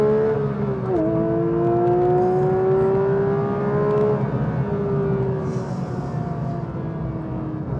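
A manual Porsche 911 GT3 accelerates to overtake, its engine note climbing steadily with a brief dip at a gear change, then holding a smooth, sustained whine with road rumble beneath.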